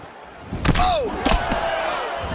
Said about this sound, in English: he lands the Superman punch